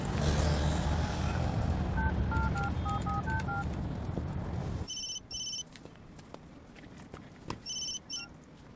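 Telephone keypad dialing tones in a Bollywood film scene: a quick run of short beeps over a busy low background, then after a cut several more brisk bursts of dial tones, clear and close.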